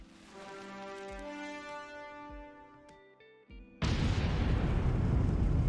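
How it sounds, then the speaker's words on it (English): In the mining game Out of Ore, a nuke detonates underground with a sudden loud, broad rumbling blast that follows a stretch of steady tonal droning, and the roar sustains to the end without talk. "Put the parking brake on and detonate the nuke."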